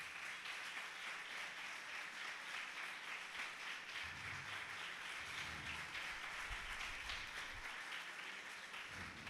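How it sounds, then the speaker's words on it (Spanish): Faint, distant applause from a colloquium audience for panel speakers, a steady patter of many hands that holds evenly throughout with no voices standing out. "quiero que le den un fuerte aplauso a los compañeros, los ponentes"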